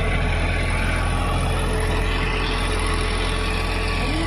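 A tractor pulling a tota hal plough through a field gives a steady, loud low engine drone with constant mechanical vibration, unbroken and without talk throughout.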